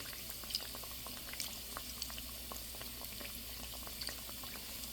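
Snacks for a children's tiffin frying a few at a time in hot oil, giving a steady, faint bubbling hiss with scattered small spits and pops throughout, no voices.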